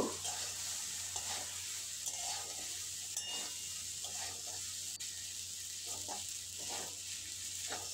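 Sago pulao with ghee stir-frying in a pan, a soft continuous sizzle with repeated scrapes and clinks of a spatula stirring at an even pace, quiet and close, no voices.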